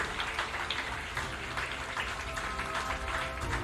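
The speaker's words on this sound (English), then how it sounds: "give a big round of applause for the Ladies College Netball team and Girls High School Kandy" Applause from an audience at a netball match between school teams, a dense patter of clapping that carries on steadily and evenly without voices.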